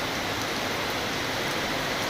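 Gentle, steady rain falls at a rural cow-science centre near Anjar in Kutch on a monsoon morning, a soft, even hiss that holds constant throughout with no voices.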